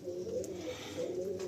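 Pigeons in a loft coo in low, rolling throaty murmurs, several birds overlapping in a soft continuous stream, close by with no talk.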